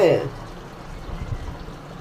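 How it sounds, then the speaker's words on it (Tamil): Kuzhambu curry with meatballs simmers on a stove, giving a soft, continuous bubbling under a voice talking throughout. "அந்த அளவு கொதிக்குது பார்த்தீங்களா குழம்பு"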